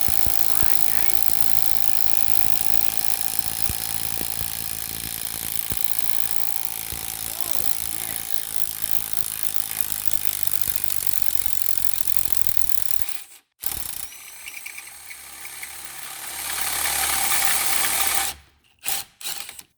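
An 18 mm socket drives a lower control arm bolt loose on a 2010 Nissan Rogue, giving a loud, continuous rattling mechanical clatter that runs for about thirteen seconds, then breaks off into shorter grinding bursts.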